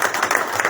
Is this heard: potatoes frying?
no